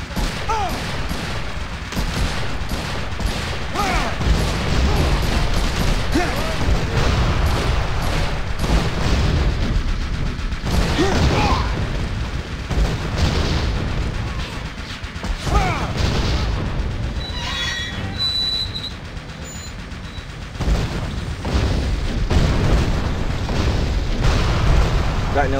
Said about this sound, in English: Got no sight on this fucking cannon.